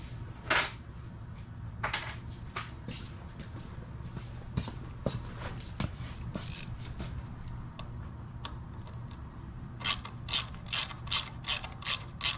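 A ratchet with a 3/16 Allen head drives screws during the install of a Vance & Hines VO2 air intake system on a motorcycle, giving repeated quiet clicking pawl ticks in uneven bursts, with a quick run of sharper clicks near the end.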